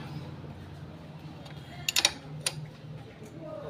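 A wrench tightens the engine bolts on a Honda Shine BS6 motorcycle in a crisscross pattern, giving a few quick metallic clicks and ratchet ticks in a short cluster, then one more click, over a quiet background hum.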